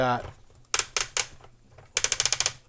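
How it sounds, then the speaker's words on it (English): Ratcheting joints of a Transformers Legacy Guardian Robot toy: three separate sharp plastic clicks, then a quick run of about seven clicks, all close up, with a brief voice at the start. "Love the sound of ratcheting in the morning."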